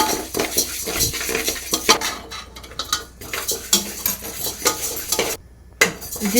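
Lentils dry-roasting for sambar powder are stirred around a metal pan, with a steady run of scraping and clinking strokes close up, faint sizzling underneath and no voices.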